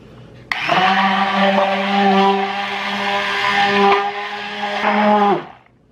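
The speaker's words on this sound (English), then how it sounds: "Let's go ahead and add a 1/4 cup of sour cream. And we'll mix this together." An electric mixer or blender whirs loudly and steadily for about five seconds as it mixes six eggs with a quarter cup of sour cream, starting abruptly and cutting off at the end, with no talk.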